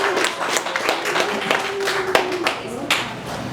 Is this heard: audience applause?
yes